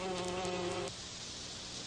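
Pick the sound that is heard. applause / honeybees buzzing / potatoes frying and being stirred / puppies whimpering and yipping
honeybees buzzing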